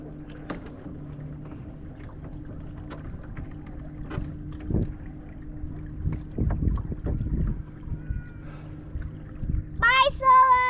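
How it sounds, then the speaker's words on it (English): A boat ride on open water, with a steady low engine drone and wind buffeting the microphone throughout, water thumps and splashes now and then, faint voices in the background, and a brief bright tonal sound near the end. "Going on a boat."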